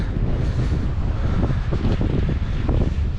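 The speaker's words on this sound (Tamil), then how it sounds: "காற்று வந்து கூட அடிக்குது" Loud, continuous wind gusting against the microphone on a suspension bridge, a heavy low roar that surges and buffets without pause.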